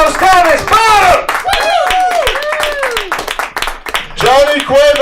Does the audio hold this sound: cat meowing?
no